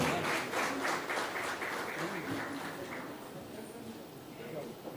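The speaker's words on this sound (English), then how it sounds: "Can we have a huge round of applause for him?" An audience at a chemicals industry event applauds the minister: a burst of clapping that fades gradually while a voice talks over it.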